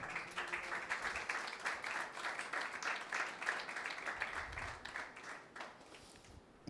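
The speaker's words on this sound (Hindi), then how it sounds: "यीशु के लिए जोरदार तालियां बजाएं।" A church congregation at a Sunday meeting claps and applauds together for several seconds, a sustained wash of many hands at a moderate level that thins slightly toward the end.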